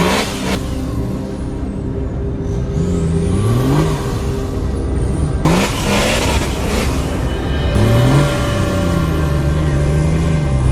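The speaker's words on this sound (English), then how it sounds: "The car tried to climb the hill, roaring and howling, stepping on the gas at full power." A car engine roars and howls at full throttle while climbing a steep hill, revving up and down in repeated rising surges, loud and close, with no voices.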